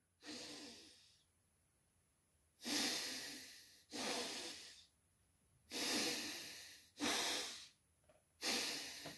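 Deep, slow breaths repeat as part of a calming breathing exercise: five long airy exhalations come close and loud, each lasting about a second, separated by quiet pauses, with no speech.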